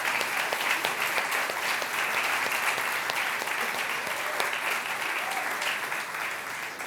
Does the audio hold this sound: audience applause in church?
yes